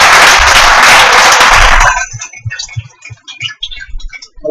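A church congregation at a Sunday service bursts into loud, dense applause that lasts about two seconds, then breaks down into a few scattered, fading claps.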